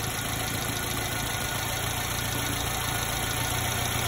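A Subaru Sambar engine idles steadily during carburetor and timing tuning, a close, constant mechanical hum and rattle with no change in pace.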